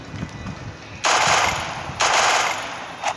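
Rapid automatic gunfire in the Free Fire video game comes in two loud sustained bursts of about a second each, with a brief third burst at the end, close and harsh, with no talk.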